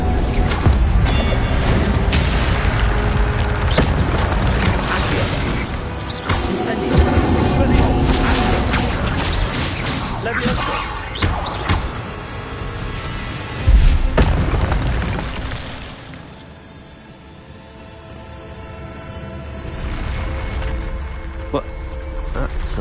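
Heavy booming fire-spell blasts from the Hogwarts video game roar loud and dense for several seconds, then ease off into a lower rumble, with a voice shouting spell names over the din.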